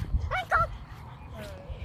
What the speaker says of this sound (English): She is a good dog.